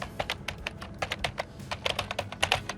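Quick, irregular keystrokes on a nearby computer keyboard as a password is typed, a steady patter of light clicks with brief pauses and no voices.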